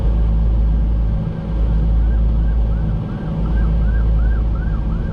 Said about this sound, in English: There's an ambulance trying to get by